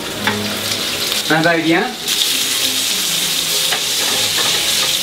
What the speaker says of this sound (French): Mon huile est chaude, boulette incorpore, comme ça.